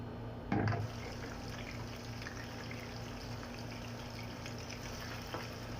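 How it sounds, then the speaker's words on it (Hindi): Okra drops into hot oil in a frying pan with a brief loud splash, then settles into a faint, steady sizzle. "अभी इसमें भिंडी डाल देते हैं फ्राई के लिए"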